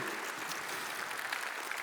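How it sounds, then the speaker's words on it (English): Audience applause at a PAX Unplugged 2025 convention presentation: a steady, dense wash of clapping from a crowd, sustained evenly throughout with no talk over it. "Let's give Josh a round of applause."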